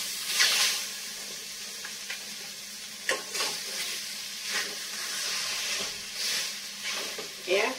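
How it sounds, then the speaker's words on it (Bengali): Leftover khichuri being reheated and stirred in a pot at home, with a steady soft sizzle and hiss broken by repeated scraping stirs, close up and moderately loud. "খিচুড়িটা একটু গরম করে দিই"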